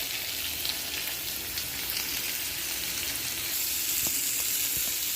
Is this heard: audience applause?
no